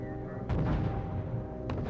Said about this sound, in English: Yeah, these tanks are getting shot at, definitely.